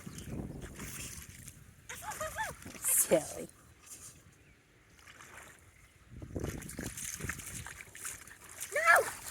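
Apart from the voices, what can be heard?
dog splashing in a puddle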